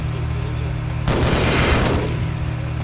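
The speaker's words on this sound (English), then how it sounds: "And then shoot a grenade over." A grenade explodes in the video game Half-Life, a sudden loud boom with a crackling tail lasting about a second before the steady game background hum returns.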